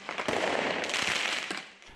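Rioters in Nanterre set off fireworks during street clashes with police, a dense volley of crackling pops and bangs over a roaring, hissy background, moderately loud and continuous, with no clear speech.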